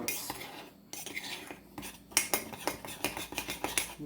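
A spoon clinks and scrapes against a mug while stirring dry ingredients for a double chocolate mug cake, a steady run of close, bright strokes with short pauses.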